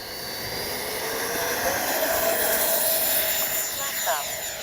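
An FMS Avanti S 70mm ducted-fan RC jet flies with landing gear down and takeoff flaps set, its steady airy roar and thin turbine-like whine holding loud and even, swelling slightly as it passes.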